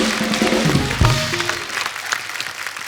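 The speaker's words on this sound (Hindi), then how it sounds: "ठोको ताली।" Studio audience clapping on a Hindi comedy show, loud applause mixed with cheering and music that thins out after a couple of seconds.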